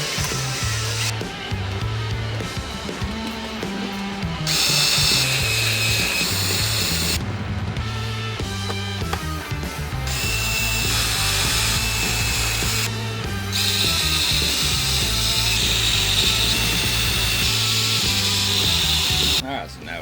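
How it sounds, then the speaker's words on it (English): Drill fitted with a 3mm bit enlarging punched holes in a 3D-printed protective part for a Big Rock 223s, a steady loud motor whine running almost continuously with slight changes in pitch. "After you get that punched out, you're going to want to step up to a 3mm drill."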